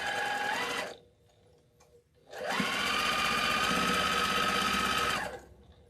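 A sewing machine stitching in two runs, a short burst and then a longer steady whir with a rhythmic needle patter, close by and loud, with a brief quiet gap between.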